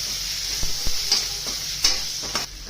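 Egg pohe being sautéed in a pan with turmeric: a steady, close sizzle of frying runs throughout, broken by several sharp spatula scrapes and taps against the pan.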